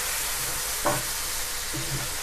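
Coconut powder mixture for chicken korma fries in a pan on high flame, a steady broad sizzle with a couple of soft scraping stirs, close and moderately loud, no voices.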